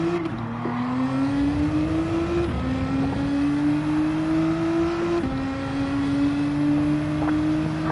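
A Nissan GT-R race car in Gran Turismo 7 screams through repeated upshifts, its engine pitch climbing steadily before dropping with each gear change, loud and close, with no talking.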